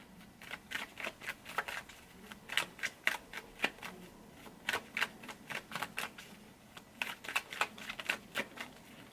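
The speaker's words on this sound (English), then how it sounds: "it takes like kind of a while for me to shuffle and for the cards to come out" A deck of tarot cards is shuffled by hand, giving a steady run of quick papery riffles and flicks in irregular bursts, close-up with no talking.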